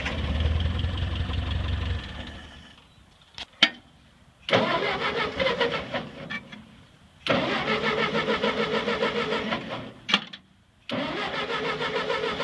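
A Ford 8N tractor fitted with a 12 volt coil cranks over on a doubtful battery, giving three long loud bursts of rhythmic starter churning with clanks and quiet gaps between tries, the engine never catching.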